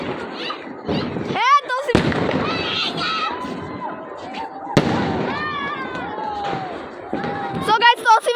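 Fireworks going off at a New Year 2025 celebration: sharp bangs and crackling bursts with rising whistles, loud and close, over a continuous murmur of voices and shouting.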